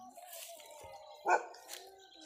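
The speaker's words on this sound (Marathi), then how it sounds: "आमचं शेरू तिकडून भुकत आहे" A native village dog gives faint, distant barks and yips, one short sharper bark standing out among the quieter whining calls.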